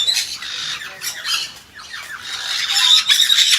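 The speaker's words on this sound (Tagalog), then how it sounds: "Iba't ibang klaseng mga ibon makikita dito." Several birds squawk and screech loudly and close by, overlapping harsh calls in quick bursts with no talking.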